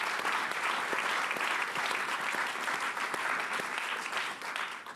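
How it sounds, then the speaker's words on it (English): Conference audience at a talk on fighting modern slavery claps steadily, a dense, fairly distant round of applause that holds evenly for several seconds before tapering slightly. "I can see some clapping about to happen."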